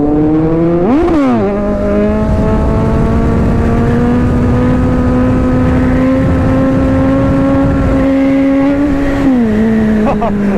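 Superbike engine held at a steady high rev through a long wheelie, loud and close, with a brief rev spike near the start and a dip near the end.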